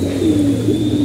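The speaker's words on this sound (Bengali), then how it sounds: "এই যে আরেকটা বাচ্চা কবুতর" A young pigeon gives a soft, low continuous coo up close, steady and unbroken over a faint background hum.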